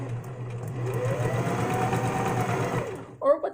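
Sewing machine stitching slick fabric, a steady close whirring hum running for about three seconds before stopping, followed by a brief noise at the end.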